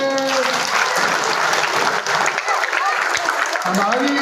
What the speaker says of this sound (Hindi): सारे के सारे ताली बजा दो अपने लिए